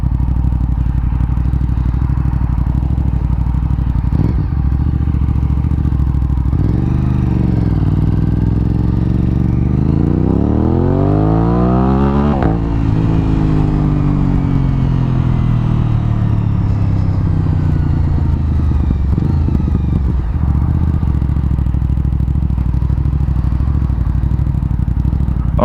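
An Aprilia RS 660 sport motorcycle is ridden, its engine loud and close as the revs climb steeply through the gears, peak, then settle into a steady, rumbling cruise with no talk.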